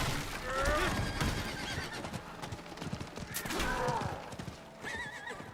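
A horse in Diablo 4 gives a loud, wavering whinny, then a second neigh a few seconds later, with hoof clip-clops and game effects around it and no talk.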